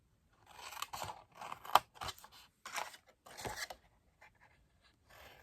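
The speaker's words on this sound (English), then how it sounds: "My big scissors are across the table, so I'm using my little scissors." Small scissors snip through cardstock paper in a series of short, crisp cuts, close up, with brief pauses between strokes.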